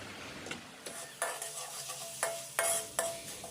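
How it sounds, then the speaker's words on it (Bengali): Onion fries with cumin, garlic and ginger paste for beef liver bhuna, a close sizzle broken by several sharp spatula strikes and scrapes against the pan in an irregular stirring rhythm. "পেঁয়াজ লাল হয়ে যাওয়ার পরে জিরা, রসুন এবং আদার পেস্ট দিয়ে দিয়েছি এবং খুব ভালোভাবে ভেজে নিচ্ছি।"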